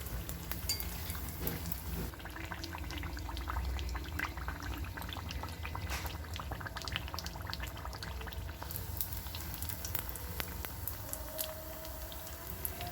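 Sweet Karthigai appam fries in a shallow layer of oil, giving off a faint, continuous bubbling sizzle with small crackles and pops throughout and no talking.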